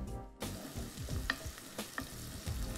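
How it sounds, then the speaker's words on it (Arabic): Onions fry in a pan until golden, a soft steady sizzle close by with repeated scraping and tapping as they are stirred. "فاحنا عايزين نحمر البصل بتاعتنا لغايه يبقى لونه ذهبي"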